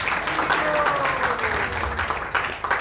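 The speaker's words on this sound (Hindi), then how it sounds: "उनका भी जोरदार तालियां।" An audience at a youth festival drama claps in a sustained round of applause, moderately close and fairly even, with some voices mixed in over the clapping.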